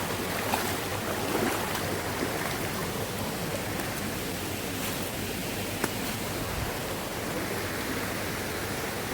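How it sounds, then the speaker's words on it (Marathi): Water rushing along a stream channel on a farm, a steady broad close hiss of flowing water that stays even and unbroken throughout. "आमच्या पायऱ्याच्या वळात सुद्धा मस्त पाणी सुटलेला"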